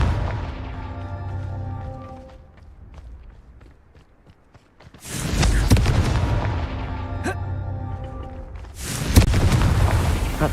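A Confringo fire spell in Hogwarts Legacy sets off a loud, booming explosion that erupts suddenly, with a second blast near the end, after a quieter stretch of faint game ambience and steps.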